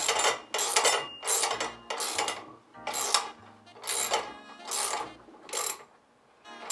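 A wrench and socket tightening a bolt on a bumper hook, giving about eight evenly spaced bursts of metallic ratcheting clicks, close and fairly loud, with no talking.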